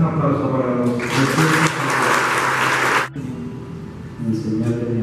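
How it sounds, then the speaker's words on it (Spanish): Wedding guests at a church ceremony break into a dense burst of applause lasting about two seconds, then it cuts off sharply, leaving murmuring voices and a brief second swell of clapping near the end. "Ahora es un aplauso para los"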